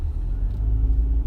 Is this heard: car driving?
yes